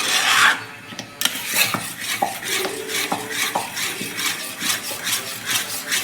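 Food being stirred in a pot for a Deepavali recipe makes repeated rasping, scraping strokes of a utensil against the pot, fairly loud and close in a rough steady rhythm, with no talking.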